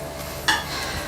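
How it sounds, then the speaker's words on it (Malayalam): Fried onions go into the prawn biryani masala in a pot, a brief soft stir or plop over a steady low sizzle. "അപ്പോൾ വറുത്ത സവാളയും ചേർത്തു"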